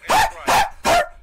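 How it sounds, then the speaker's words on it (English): A dog barks three times in quick succession, loud and close, with short gaps between each sharp bark and no talk over it. "my dog keep goddamn barking"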